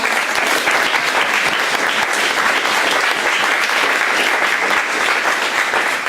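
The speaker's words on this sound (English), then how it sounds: "Can we give him another round of applause?" A lecture audience gives another round of applause: continuous, loud clapping from a crowd filling the whole moment, even and unbroken, with no speech over it.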